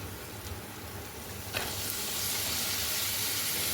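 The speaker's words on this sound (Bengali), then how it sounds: "এবারে এই পনিরটা দিয়ে একটু ভালো করে ভাজবো।" Paneer frying in a pan of roasted spices for a vegetarian potoler dolma, a soft continuous sizzle that swells slightly partway through, with no voices.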